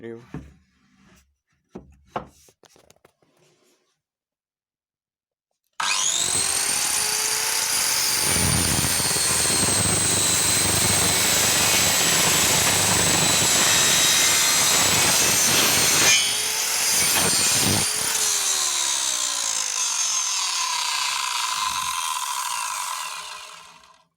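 A Vitals 1913 saw cuts through a 40 mm pine batten in a loud, steady mechanical whine with a rasping grind. It runs for about eighteen seconds after a few quiet knocks and handling sounds, then winds down at the end.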